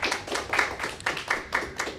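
Audience at a tomato grafting talk clapping, with a thin scattering of individual claps in a loose, uneven rhythm, close and distinct rather than a dense roar.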